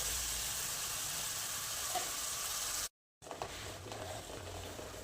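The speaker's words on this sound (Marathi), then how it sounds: "आता हे पण आपल्याला छान परतून घ्यायचे कमी गॅसवरती।" Ground masala paste for a peas and potato curry sautéing in a pan over a low gas flame: a steady, close sizzle and crackle that fills the clip, briefly cut off by a short silent gap, then resuming with light stirring.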